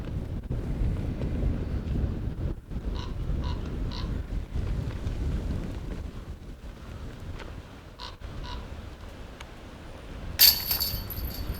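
Strong wind buffets the microphone on a golf course, a continuous low rumbling roar with gusty swells and a brief sharp burst near the end.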